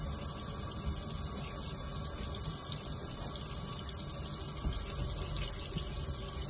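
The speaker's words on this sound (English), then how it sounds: "So, panning tub, a little bit of water." Water runs continuously into a gold panning tub, a steady close splashing wash with a faint underlying hum and no voices.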